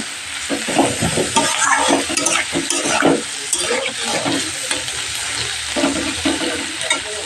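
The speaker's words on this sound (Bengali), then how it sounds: "তো এখানে দেখো মাছের তেলটা বসিয়ে দিলাম।" Fish frying in hot oil in a pan, a close, steady sizzle with bursts of spattering and stirring noises throughout.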